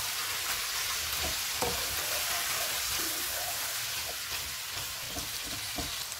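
Chicken masala pulao with tomatoes sizzles steadily in a pan while a utensil stirs it, scraping in irregular strokes against a continuous, fairly quiet frying hiss, with no voices.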